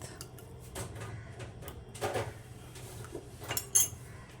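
Mango panha drink with ice being stirred in a vessel, giving faint scattered clinks and scrapes over a soft background with no talk.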